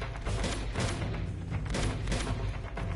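Rapid gunfire in Uncharted 2 during a firefight, with dense overlapping shots and booming bursts packed tightly together, loud and continuous, and no speech over it.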